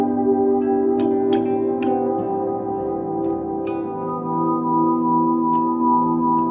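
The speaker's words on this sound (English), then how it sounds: "That's just the reverb that's on there." A bass instrument played through a volume pedal holds long, lush sustained tones washed in deep reverb, forming a smooth pad with a few soft plucked accents drifting over it.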